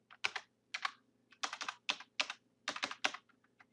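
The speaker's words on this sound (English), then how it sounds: "Oops, I typed the wrong letter there." Quick, close keystrokes as a password is typed on a computer keyboard, coming in short irregular bursts of clicks in an otherwise quiet room.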